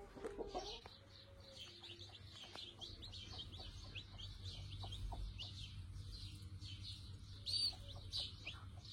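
Two black chicks peeping in a garden, faint high chirps repeating throughout, with distant clucking from an adult hen and a low background rumble.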